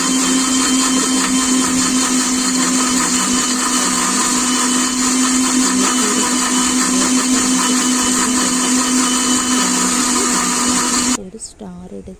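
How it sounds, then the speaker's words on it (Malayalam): A kitchen mixer grinder whirs loudly and steadily for about eleven seconds, grinding browned roasted coconut with water into a smooth paste for a Kerala-style coconut chickpea curry, then cuts off abruptly near the end. "വെള്ളം ഒഴിച്ച് നമുക്ക് അരച്ചെടുക്കാം. നന്നായിട്ട് നല്ല പേസ്റ്റായിട്ട് അരച്ചെടുക്കാം."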